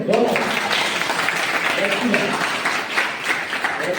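A group of village children clap together for a classmate's drawing, a dense continuous patter of hands with voices mixed in throughout.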